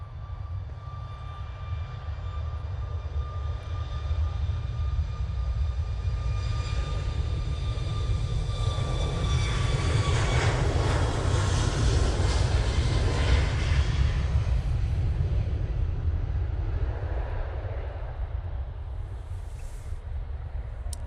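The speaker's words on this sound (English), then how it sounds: "There we go, the Ryanair. They're off to Malaga using the 737 MAX 8." A Ryanair Boeing 737 MAX 8 departing Manchester for Malaga builds a low, steady jet rumble with a thin high whine, swelling to a peak midway and then slowly fading into the distance.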